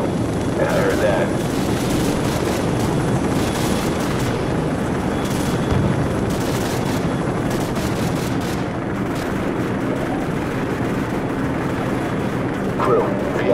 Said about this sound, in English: We're moving towards the helicopters now